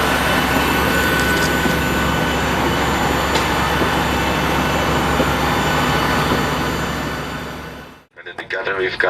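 Steady, loud engine roar fills the cabin of a Ryanair Boeing 737-800 flying from Milan Malpensa to Brussels Zaventem. The broad whooshing hum holds constant, with a cabin announcement spoken over it, then cuts off abruptly near the end.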